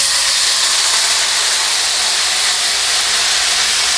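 A shrimp and scallop mixture hits a hot pan, giving a loud, steady, close hissing sizzle that holds evenly throughout with no talk.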